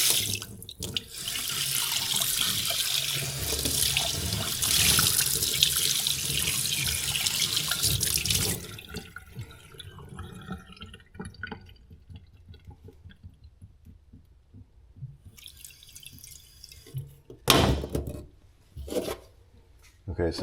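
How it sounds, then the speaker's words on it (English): Tap water runs loudly into a BMW boxer motorcycle cylinder head held in a sink, a steady close rush for about eight seconds that stops, followed by quieter clunks and knocks from handling the metal part. "now I just put some water in it"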